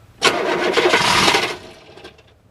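Weasel engine cranking in cold weather around minus 13 Celsius with the throttle open: one loud grinding cranking burst of about a second and a half, then tapering off without catching, heard up close.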